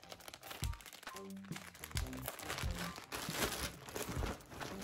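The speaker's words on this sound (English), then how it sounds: "So we're gonna drop that in the plastic bag as well." Packets of baby fresh scented wipes and other items dropped into a crinkly plastic bag, with repeated rustling, crumpling and soft thuds close by.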